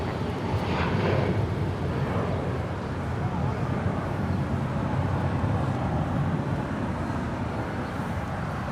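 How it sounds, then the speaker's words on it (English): Avianca Airbus A320 departing Los Angeles International Airport, a broad steady jet roar heard from a distance that stays even for the whole stretch, with no talk over it. "That was Avianca 641 departing to Guatemala City on an A320"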